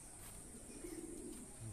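Fantail pigeons in a breeding loft give a soft, low cooing call that swells briefly in the middle, faint against a quiet background hiss.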